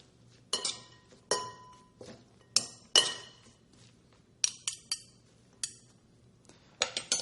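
A simple green salad dressed with a tablespoon of Bragg's being tossed in a bowl, heard as a dozen or so sharp clinks and clatters of utensils against the bowl, arriving in irregular bursts and fairly close.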